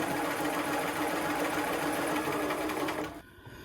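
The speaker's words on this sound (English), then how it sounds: "So let me stitch a little bit" A sewing machine stitching a line runs at a steady, fast mechanical whir for about three seconds, close and continuous, then stops abruptly.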